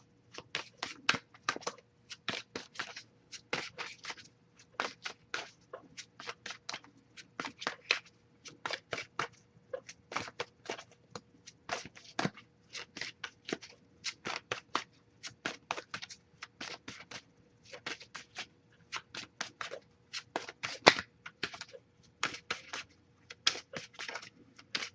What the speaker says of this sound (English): I'll shuffle a little bit more